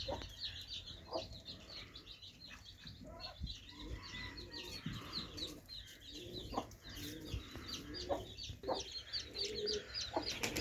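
Desi village chickens and roosters cluck and chatter steadily, with other birds such as pigeons cooing and chirping around them, a busy outdoor fowl yard heard alone for several seconds.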